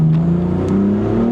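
A BMW M4 with the S55 engine pulls hard and shifts into third, its engine note loud and close, the pitch climbing, dropping at the shift and rising again, with a short tire chirp.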